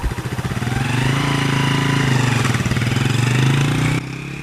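An old motorcycle engine chugs loudly and steadily up close with a fast pulsing rumble, holding for several seconds before dropping abruptly to a quieter level on a rough road in Cameroon.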